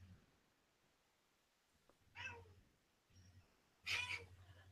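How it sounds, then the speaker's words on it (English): A house cat meows twice indoors, faint and a couple of seconds apart, over a low background hum. "My cat keep making noise."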